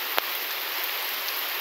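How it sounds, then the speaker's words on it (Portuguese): Steady rain runs down a sloped street beside a home veranda, a dense, even hiss of water with one brief knock near the start and no voices. "E aqui tá chovendo, ó."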